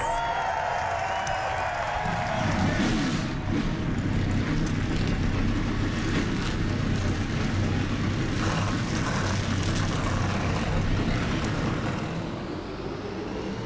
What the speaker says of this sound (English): Let's go down trackside and fire the engines up with this starting command